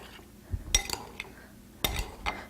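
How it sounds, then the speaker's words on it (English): Tortellini stirred with a metal utensil in a dish, two sharp clinks of metal against the dish with softer scraping scrapes between, close and fairly quiet, no talking. "And then we're just going to stir it up."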